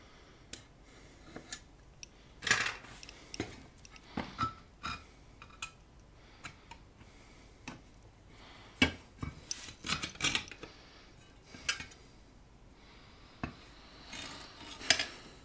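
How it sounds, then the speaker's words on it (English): A hand saw cuts a transformer hole in a metal amplifier chassis, giving irregular, quiet rasping strokes and small metallic ticks and clinks with pauses between them, close up and without speech. "Gotta be careful not to bend the saw blade."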